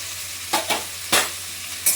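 Cumin seeds sautéing with garlic in a pan on a gas stove, with four short, close bursts of sizzle and stirring scrapes over a quiet background and no talk.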